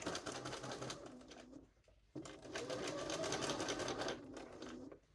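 Sewing machine running close by, stitching fabric pieces right sides together along a line in a sewing studio: a steady whirring hum with a brief pause and restart, no voices.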